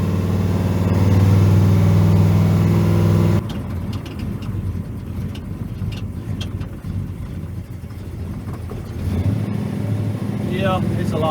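The Silver Bullit car drives down the road with a loud, steady engine drone. It starts heavy, then settles into a lighter rolling hum with road noise, and voices talk over it.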